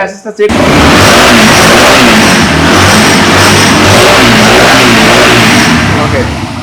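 Fuel-injected Pulsar motorcycle engine revving close by, a loud sustained roar with pulsing throttle swells after a brief start, with voices partly mixed in.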